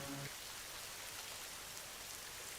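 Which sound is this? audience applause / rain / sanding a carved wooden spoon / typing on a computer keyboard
rain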